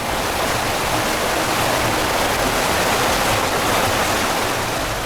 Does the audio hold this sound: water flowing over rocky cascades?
yes